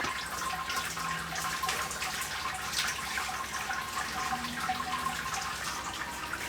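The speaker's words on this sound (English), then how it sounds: "That's going to let me put the water through to extract all the other sugars out that are in here still, in the grains." Hot water at mash-out temperature trickles and splashes steadily through a bed of beer mash grains during home brewing, a soft continuous running-water wash without a break.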